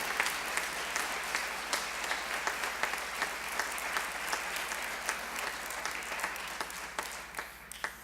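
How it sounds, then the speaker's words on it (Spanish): A church congregation applauds with a fairly quiet, continuous patter of many hands, some sharper individual claps standing out, over a low steady hum and without speech. "¿Por qué no le da un fuerte aplauso al Señor?"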